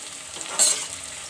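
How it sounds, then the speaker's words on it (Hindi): Onions fry in hot oil for a turnip and meat curry, a close, steady sizzle with a brief louder stir of the pan partway through. "प्याज जब हमारी लाइट ब्राउन हो जाएगी तो हम इसे तल के निकाल लेंगे।"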